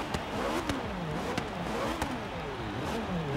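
A BMW i8 fitted with a V8 engine in Forza Horizon 3 revs, producing a rough, pulsing engine drone that rises and falls repeatedly at moderate volume, with no talking.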